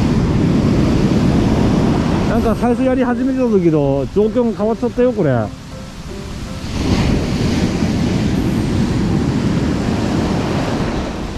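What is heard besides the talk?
strong ocean waves at the surf beach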